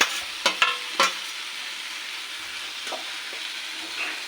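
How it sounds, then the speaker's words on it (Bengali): Fried pumpkin and potato tumble into hot spiced oil, giving a few sharp clatters and scrapes of stirring, then a soft continuous sizzle with occasional light scrapes. "মশলাটা কষা হয়ে গেছে, এরপরে ভাজা কুমড়ো আলুটাকে দিয়ে দিচ্ছি"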